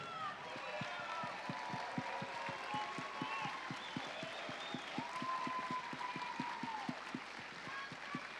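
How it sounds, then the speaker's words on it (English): Festival audience at a folk festival gala performance claps steadily for the host families, the claps falling in a fairly even rhythm over a low murmur and some tonal voice or music in the background. "Let's give them a round of applause."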